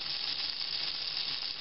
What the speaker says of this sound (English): Sizzling in the pan is the butter.